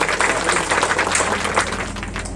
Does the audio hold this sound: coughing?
no